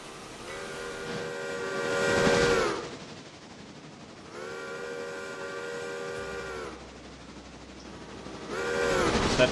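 Train whistle blasts from a departing locomotive in the Railroader game, three long harmonic toots separated by brief gaps, loud and clear over a low rumbling rail background.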